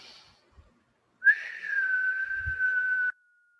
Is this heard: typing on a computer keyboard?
no